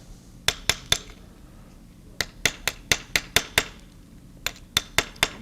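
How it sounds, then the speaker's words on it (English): Sharp metallic taps of a hammer flattening the edges of a cut brass panel, ringing in quick bursts of three to five blows separated by short pauses, close and clear. "hammer those edges down"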